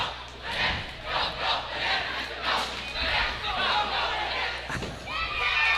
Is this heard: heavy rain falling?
no